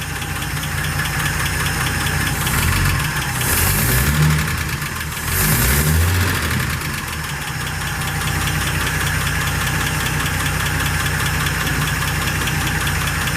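The engine of a 1948 Pontiac Torpedo idles steadily after start-up with a light mechanical tick, a continuous close drone with a few small swells in level, and no talking.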